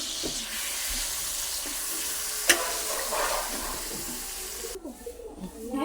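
Ginger garlic paste and onion paste frying in hot oil in a home kitchen, a steady close sizzle with stirring scrapes and a sharp clack partway through, then the hiss drops away near the end as the stirring continues.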